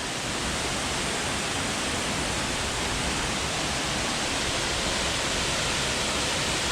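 Triple Falls waterfall in the Little Egypt area, close up: a steady, loud broadband rush of falling water, unbroken and even throughout with no talking.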